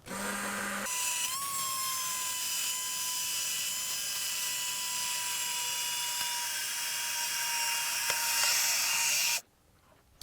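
An electric hand mixer runs steadily on low speed, blending coconut oil soap batter, with a continuous whine that holds for about nine seconds before cutting off abruptly.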